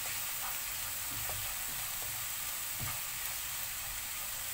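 Onion mixture frying in a pan and being stirred now and then, a soft, steady low sizzle with a few faint scraping strokes, quiet and alone.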